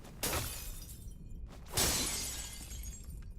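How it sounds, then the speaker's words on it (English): Glass shatters twice in the video game Dishonored, each a loud, close, crashing burst of breaking glass followed by a tinkling tail, about a second and a half apart. "it is really fun in this game to run around rooms like this that nobody can hear you in and just break glass"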